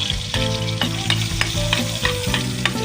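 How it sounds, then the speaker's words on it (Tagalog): Garlic, onion and ginger sautéing in hot oil for chicken caldereta, a steady close sizzle broken by repeated scraping stirs of a spatula against the pan, with no talking. "Sangkot siya na tayo ng bawang,"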